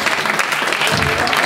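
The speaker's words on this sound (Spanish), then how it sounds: "vamos a aplaudir" An audience applauds loudly and continuously at a talk about writers, a close, dense patter of many hands with faint murmurs mixed in.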